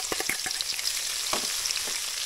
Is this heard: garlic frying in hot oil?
yes